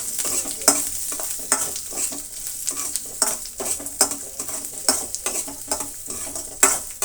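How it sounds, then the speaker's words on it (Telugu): Thinly sliced onion fries in a pan with a steady close sizzle, broken by repeated scraping and clinks of a spoon stirring against the metal. "ఇవన్నీ కూడా బాగా ఫ్రై చేసుకుందామండి"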